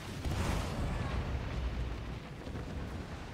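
A ship's cannon shot in the pirate naval game Skull and Bones, a loud low boom that rumbles on and slowly fades across the whole stretch, with no one speaking.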